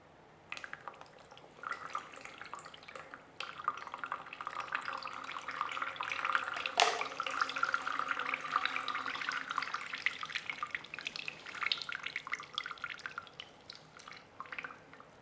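Water trickles and drips into the soil of a potted houseplant as it is watered through, a soft, uneven pouring that swells and fades over a quiet room.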